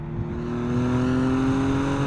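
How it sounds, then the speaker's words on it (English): A 2023 Audi S6 engine rises in pitch after a downshift to third, a steady loud climbing drone of hard acceleration heard from inside the car. "Downshift to third."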